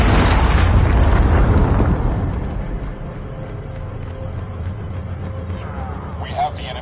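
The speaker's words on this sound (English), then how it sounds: "Predator missile inbound." Predator missile strike exploding in a Call of Duty battle royale match, a loud booming blast up front that rolls off into a lingering rumble, with game announcer voice lines over it.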